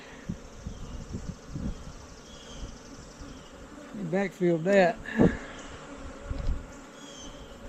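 Honey bees buzz in an opened hive with frames of larvae and stored food, a soft steady drone under brief talk, with a louder burst of close buzzing and rustling partway through.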